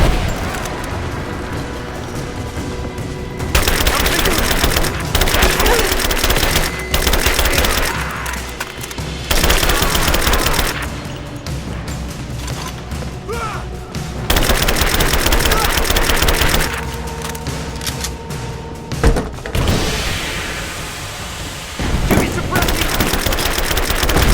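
Gunfire in the video game Rise of the Tomb Raider, loud repeated bursts of shots and booms in several clusters, mixed with game voices calling out.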